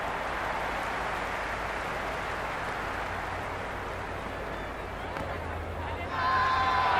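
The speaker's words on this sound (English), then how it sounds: "The crowd is electric right now." A stadium crowd at a Delhi Capitals versus Quetta Gladiators match in the video game Cricket 26 makes a steady, dense roar throughout, rising slightly near the end.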